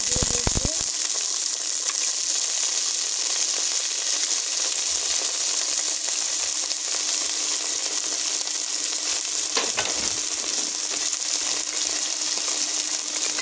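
Onion, chilli and garlic fry together in hot oil in a karahi for bathua greens, giving a loud, steady, continuous sizzle with no talking.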